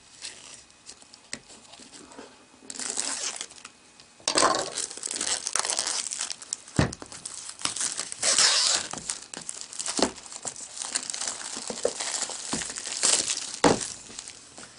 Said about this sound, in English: get my trusty cutter out, and get the plastic off of this